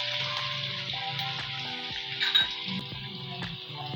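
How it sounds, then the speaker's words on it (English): Onion fries in oil in a pan, giving a steady close sizzle with regular light clinks and scrapes from a utensil stirring against the pan, and no voices. "we are going to fry until the onion is translucent."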